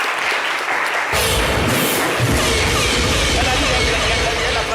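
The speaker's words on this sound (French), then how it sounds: "Applaudissements pour Shakina, s'il vous plaît." Applause bursts in suddenly after a moment of talk, then continues as a loud, dense clapping from a crowd, with some voices mixed in.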